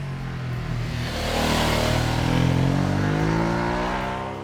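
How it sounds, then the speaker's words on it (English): A motorcycle engine revs steadily and fairly loudly, its tone rising slightly in the middle and then holding a smooth, crisp drone with no voices. "At high RPMs, the 937 sounded good, but at lower revs, it was a bit clattery and mechanical, and this one just sounds tighter, crisper"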